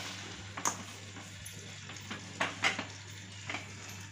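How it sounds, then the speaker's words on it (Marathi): A buttered bread slice toasts in a pan under a faint, steady sizzle, with a few soft clinks and scrapes of a spatula scattered through it and no talk. "हे आता असं दोन्ही साइडनं आपण भाजून घ्यायचं आहे"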